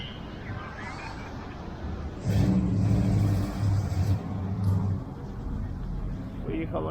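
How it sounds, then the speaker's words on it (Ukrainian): An old sports car passes close by on a beach-town street, its engine note swelling loudly for a few seconds over steady traffic hum, with a voice talking briefly. "красава якась спортивна стара машина"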